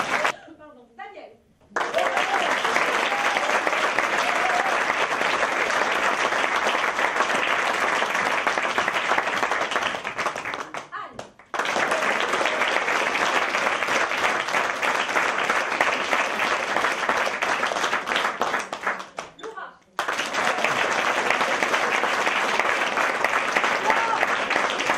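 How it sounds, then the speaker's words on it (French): Theatre audience applauding in long sustained bursts, broken by two brief pauses, with a few spoken words in between. "Un tonnerre d'applaudissements pour Roger"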